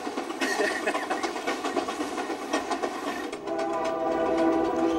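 Diesel locomotive of a cross-Canada passenger train rolling along rails, with a steady rumbling drone and rhythmic clatter that continues throughout, loud and close, with no talk.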